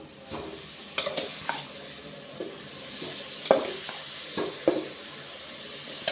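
Soaked rice being tipped into a pan of frying vegetables for tomato rice and stirred, a steady sizzle with scattered scraping clicks of the spoon against the pan, close and moderately loud, no talking.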